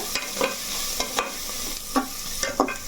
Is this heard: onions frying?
yes